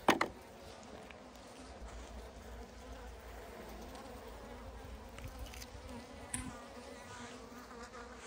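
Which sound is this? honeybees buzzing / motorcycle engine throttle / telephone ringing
honeybees buzzing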